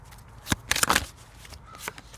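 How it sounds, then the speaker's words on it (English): Oracle cards from a Whispers on the Moon deck are handled and shuffled up close, with a few quick riffling flutters and paper slaps in a short burst, then softer rustles, and no talking. "I'm going to grab another card or two here from the Whispers on the Moon cards."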